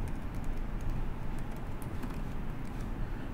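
Someone types on a computer keyboard to enter email addresses by hand, producing a run of light, quick key clicks over a steady low background hum.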